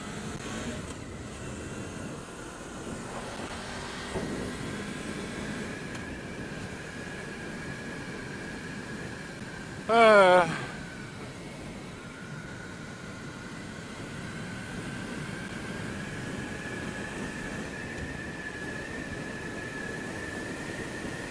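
Steady engine and wind roar from a Honda VFR800 motorcycle being ridden on the road, continuous and fairly even throughout, with one brief louder burst midway.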